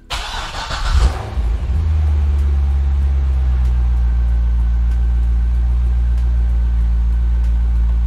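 A car with a P0449 evaporative-system fault, just fitted with a new vapor canister vent solenoid, cranks briefly and fires up, then settles into a loud, steady, low idle rumble with no talking.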